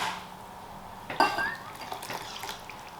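A spoon clinks against a bowl as jelly mixture is stirred with hot water, giving a few close, light scraping clinks over a soft background hiss, with no talking.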